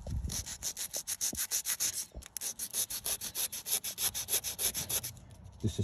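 Rapid rhythmic rubbing of 80-grade sandpaper on a VW Transporter alloy wheel, steady back-and-forth strokes about four per second, close up, with a brief pause midway.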